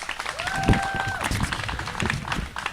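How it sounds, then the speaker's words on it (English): Applause and scattered clapping from a crowd at an outdoor press conference honoring Brooklyn's Greenest Block contest winners and participants, dense and steady, with a brief whistle-like tone and some voices mixed in. "let's just give all the winners, all the participants and the winners a round of applause"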